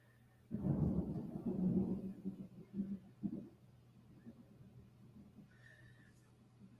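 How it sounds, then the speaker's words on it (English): Big thunder outside a window in Miami: a deep rumbling roll swells up loud, breaks into a few fading grumbles over about three seconds, then leaves only quiet room noise. "I just heard some big thunder out here in Miami outside of my window."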